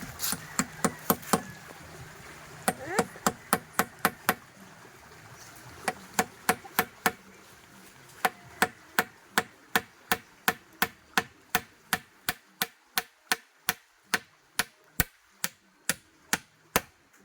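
A hammer drives a nail with a long series of sharp, close strikes, irregular at first and then settling into a quick, even rhythm, with no voices over them.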